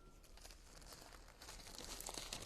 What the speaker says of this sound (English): Another plastic bag here for this brush.